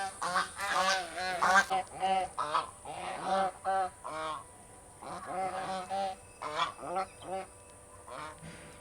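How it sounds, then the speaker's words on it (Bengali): Several domestic geese at a pond beside a Ganges riverside ashram give repeated loud, nasal honks in irregular clustered bursts, close by, with short pauses between calls. "এই দেখো 1, 2, 3, 4টে কিন্তু এখানে রাজহাঁস রয়েছে"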